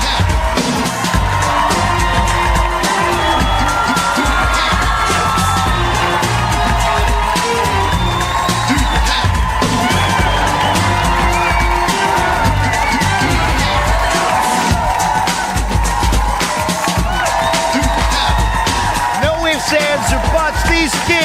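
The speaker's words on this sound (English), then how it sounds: "Taking a listen to this crowd rocking." A Global Guts arena crowd of kids roars and cheers continuously at close range, with whoops rising above the din and an announcer talking over it throughout.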